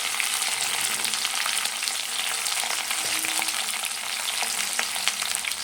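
Chopped cauliflower frying in hot oil with mustard seeds: a steady, dense, close sizzle with faint crackles throughout and occasional soft stirring, no voices.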